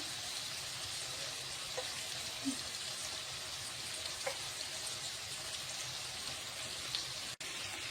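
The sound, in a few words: onion and peas frying in a pan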